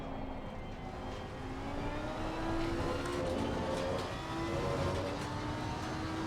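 A car engine drones steadily through laps in a racing video game, a continuous, fairly loud tone that rises and falls in pitch with gear changes and throttle, with no talk over it.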